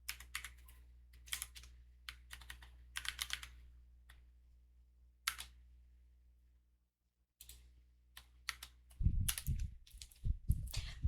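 Someone types on a computer keyboard in quick bursts of crisp clicking keystrokes, with short pauses and a longer silent gap. Denser, busier tapping comes near the end, all over a faint low hum, with no one talking.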